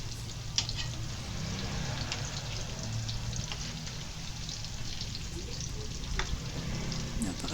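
Tofu sizzles and fries steadily in a hot pan after being flipped, a continuous crackling hiss with scattered small pops and faint scraping throughout, nearby and at moderate volume with no voices.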